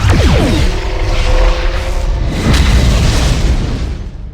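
Starship forward weapons fire in the Klingon Academy video game, a heavy booming blast with sweeping whines that rolls on loudly and alone for several seconds.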